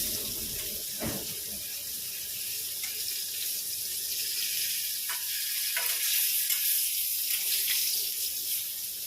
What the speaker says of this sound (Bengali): পটলটাও লাল লাল করে ভাজা হচ্ছে